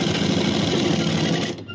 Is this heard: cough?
no